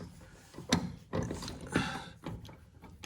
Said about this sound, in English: I just grabbed a wrench and just stuck it in there to loosen this